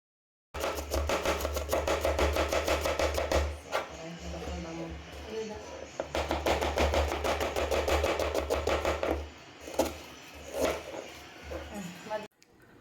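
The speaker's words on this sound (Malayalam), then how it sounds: "ഇതാ ഏട്ടൻ കണ്ടില്ലേ, ഉള്ളി അരിയാൻ സഹായിക്കുകയാണ് കേട്ടോ" Onions are chopped in a home kitchen with fast, steady knife strokes in several bursts, and people talk over and between them.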